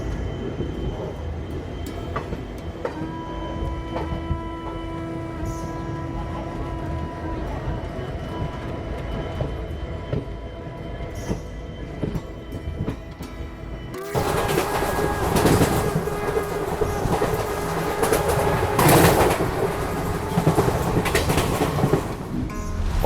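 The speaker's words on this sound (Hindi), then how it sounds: "अभी हमारी ट्रेन को हमारी ही ट्रेन यानी कि सोमनाथ अहमदाबाद इंटरसिटी एक्सप्रेस जो है वो क्रॉस कर रही है" The Somnath Ahmedabad Intercity Express passes on the adjacent track as a steady rolling rumble with faint wheel squeal heard from onboard another train. Midway a sudden louder roar of the crossing train sets in and holds, close and continuous.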